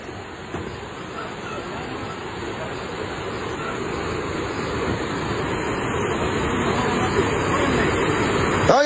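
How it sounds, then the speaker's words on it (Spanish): Floodwater of a swollen river rushing hard and steadily, a broad loud roar that slowly builds, with distant shouting voices mixed into the torrent. "¡Ya viene más fuerte el agua,"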